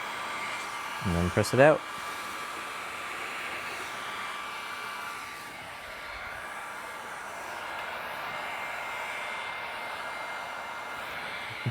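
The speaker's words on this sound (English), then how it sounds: "you can easily get it to burn when you hold the heat gun against it too much" A heat gun warms window tint film on a BMW 5 Series, giving a steady, moderately loud blowing hiss that runs through the whole stretch, with a brief louder burst and a short spoken line near the start.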